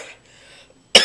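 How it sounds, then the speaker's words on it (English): A single sharp cough from someone with a bad cold and runny nose bursts out close and loud after a brief quiet stretch with faint background noise. "a bad cough."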